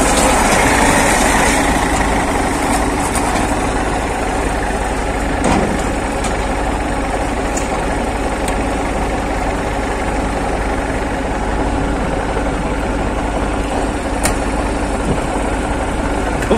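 An MTZ tractor engine idles steadily throughout, a continuous broadband rumble with a low throb that holds at an even level with no speech over it.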